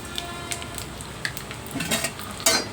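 Cumin and mustard seeds hit hot oil in a pan for tempering Andhra-style horse gram (ulava) sambar, giving light sizzling with scattered sharp pops and a few clinks of a spoon against the pan, close up.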